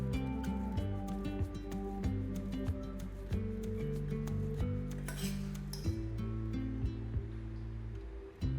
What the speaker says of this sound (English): I'll quickly lay the plates